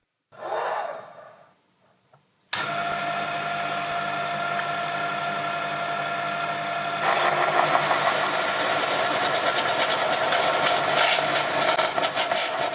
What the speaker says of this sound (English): I find bronze much easier to part than other materials on this lathe